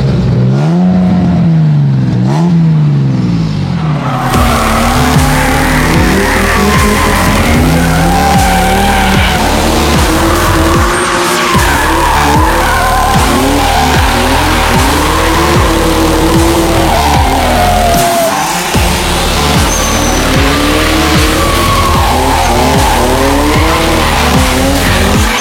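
Drift car on the CKB circuit, loud and close, its engine revving hard with rising and falling pitch while tyres squeal and skid continuously through long slides; no talking.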